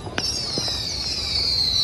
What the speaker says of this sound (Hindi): लोग पटाखे भी जला रहे हैं।